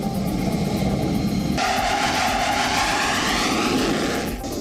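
An Israeli military aircraft flying over Gaza gives a loud, continuous engine roar that holds steady throughout, with a noticeable shift in tone partway through as it passes.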